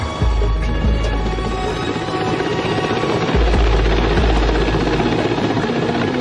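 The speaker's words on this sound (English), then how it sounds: "the Su-33 made its first deck takeoff" Su-33 naval fighter jet on its first carrier deck takeoff, a loud continuous engine roar with a heavy low rumble that swells partway through and stays strong to the end.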